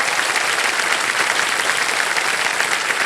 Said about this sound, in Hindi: इतने लोग सब ताली बजा रहे हैं